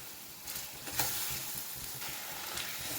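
Mango rice stirred and mixed in a hot pan, a soft continuous sizzle with a few faint scraping strokes of the spoon, fairly quiet and without voices.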